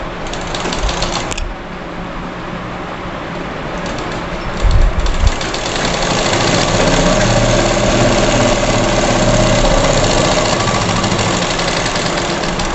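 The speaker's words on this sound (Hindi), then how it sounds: "इसको भी हम इसी तरीके से मोड़ेंगे और इस पर सिलाई लगा लेंगे" Sewing machine stitching along a folded fabric strip for a girl's frock shoulder strap, a few brief bumps at first, then a steady, loud motorized whir with fast needle clatter that runs to the end.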